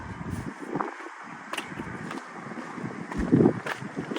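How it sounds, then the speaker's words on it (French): Wind buffets an outdoor microphone in gusty rumbling bursts, with a few sharper knocks and a louder gust near the end. "ça me saoule, il y a du vent"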